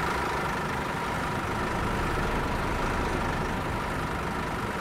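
A bus engine idles in the Bus Simulator video game on PlayStation, a constant, dense, low mechanical rumble with no change in pace and no talking.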